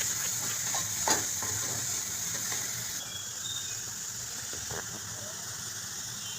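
A spoon stirs mixed vegetable paneer masala in a sizzling pan, sending out a few scraping clinks over a steady, quiet frying hiss.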